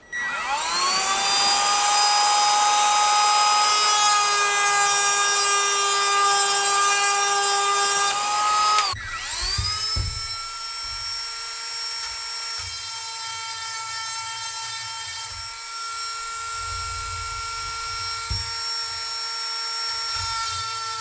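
A Milwaukee M12 cordless rotary tool with a chainsaw sharpening attachment whines at a high steady pitch as it grinds the chain teeth, dipping briefly midway then carrying on, close and loud without talk.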